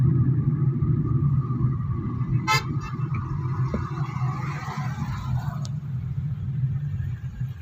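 A car engine runs steadily in second gear, a low continuous rumble throughout with a short horn toot near the start and the car approaching a speed breaker.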